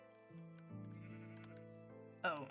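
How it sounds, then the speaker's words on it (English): Sheep bleating in a video game, a few stacked bleats with one louder, brighter call near the end, heard over game music or ambience. "Oh, it was the sheep."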